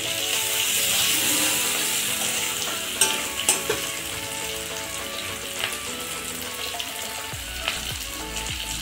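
Capsicum, onion and black pepper fry in a pan for chilli chicken with a loud, steady sizzle, broken by a few sharp clinks and scrapes of a utensil partway through.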